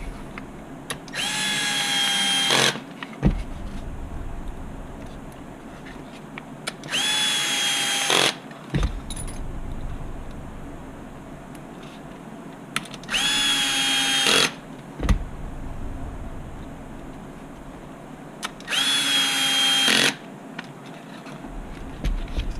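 A power driver runs screws into the radio tray of an HB Racing D817V2 RC car, four close, loud whirring bursts of a couple of seconds each, separated by short pauses with steady background hiss.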